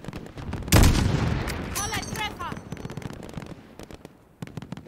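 A loud sharp blast followed by crackling, echoing reports and a few scattered pops of gunfire in Call of Duty: Modern Warfare (2019), with voices talking faintly underneath.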